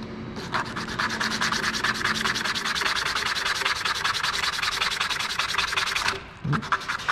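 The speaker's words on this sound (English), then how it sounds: "got my piece of scrap from the first day here, and got some 80 grit sandpaper" A wood plug is sanded on 80 grit sandpaper over a scrap piece while making plugs for a step stool, a close, steady, gritty back-and-forth rasp that runs continuously for about six seconds and then stops.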